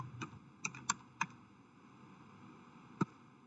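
Keys tap on a computer keyboard while terminal commands are entered, a handful of sharp, sparse clicks close by in a quiet room, with a longer gap before a final keystroke.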